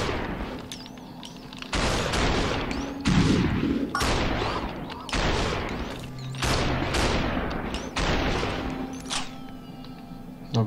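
Rapid bursts of gunfire from the video game Superhot crack repeatedly, loud and close, in irregular volleys with brief gaps between shots.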